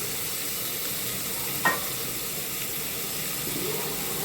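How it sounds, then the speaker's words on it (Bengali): Soft, steady sizzling of tomatoes, beans, potatoes and carrots frying in a pan, a continuous hiss with one brief clink of a utensil partway through. "দিয়ে এবার ভালো করে ভাজবো সবজিগুলো।"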